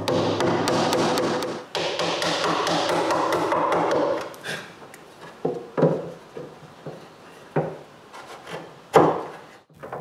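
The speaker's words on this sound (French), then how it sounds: "La dernière chose à faire, c'est de couper les coins carrés avec des ciseaux à bois." Wood chisels cut square corners in a bathroom vanity project, starting with dense rapid tapping and rubbing, then giving way to separate sharp knocks and thuds with short pauses between.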